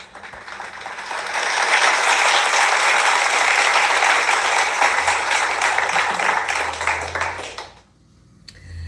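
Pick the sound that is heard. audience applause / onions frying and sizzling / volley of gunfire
audience applause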